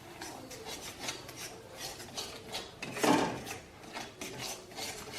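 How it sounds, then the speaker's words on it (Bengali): A spoon stirs dal makhani with fresh cream in a pan over a low gas flame, giving repeated close scraping and rubbing strokes in an uneven rhythm, with no talking. "ফ্রেশ ক্রিম দেওয়ার পর আমি এটাকে ভালো করে নেড়ে চেড়ে নেব।"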